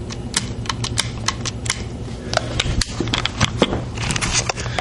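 Rapid, irregular metallic clicking close up as the cylinder of a Dan Wesson 8-inch .177 CO2 air revolver is spun and ratchets, with no voices.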